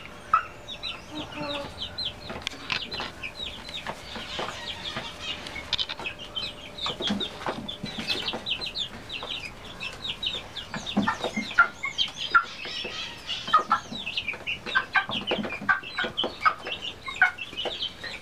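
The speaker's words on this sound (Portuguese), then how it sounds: "Esses aí são os pintinhos filhos da minha galinha músico" A hen clucks softly and repeatedly while her seven chicks peep in quick, high chirps throughout, close by and continuous.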